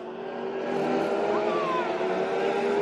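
F2 race car engines droning steadily at high revs, a continuous loud roar with a faint rising whine partway through.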